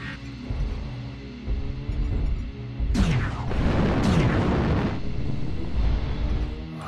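Mech weapons firing and explosions in MechWarrior Online, heavy booming blasts and bursts swelling mid-sequence over a rumbling background, loud and close.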